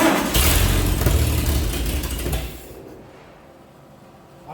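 Engine of a 1948 Chevy truck turning over on its first start after sitting unused for 30 years, a loud, steady running rumble for over two seconds that then fades and quiets.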